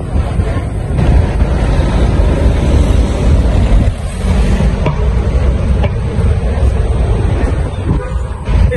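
Busy Lisbon street traffic rolls past, a loud, continuous low engine and tyre rumble with wind buffeting the microphone, steady throughout with a brief dip midway.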